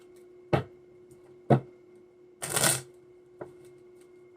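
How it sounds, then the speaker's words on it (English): A deck of tarot cards being shuffled by hand: a handful of brief crisp riffles spaced about a second apart, with one longer fluttering riffle in the middle, close and fairly quiet over a faint steady hum. "I just do a little bit of shuffling on here for you guys, so you see that they're shuffled and not staged."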